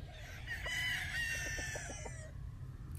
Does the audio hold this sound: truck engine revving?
no